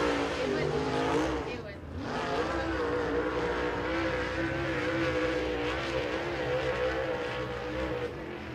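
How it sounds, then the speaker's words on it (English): A super late model race car roars through a qualifying lap at a dirt oval raceway, its loud engine droning steadily with a brief dip as it passes, while an announcer talks over it. "He gets to the loud pedal for his first of two green flag qualifying laps."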